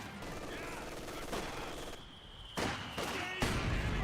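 Gunfire from German Grenadiers engaging Soviet conscripts in the strategy game Company of Heroes 2, sounding as rapid machine-gun and rifle bursts that grow louder in sharp surges, with a voice talking faintly underneath.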